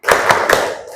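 Several people clap their hands together in a short rhythmic burst of three quick claps, close and loud, with no talking over them.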